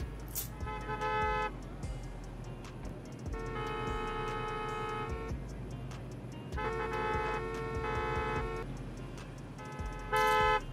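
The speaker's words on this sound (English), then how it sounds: "what are you honking at?" Repeated car horns honk in long sustained blasts in an underground parking garage in the video game Parking Tycoon: Business Simulator, several overlapping, with a steady traffic rumble underneath and short gaps between the honks.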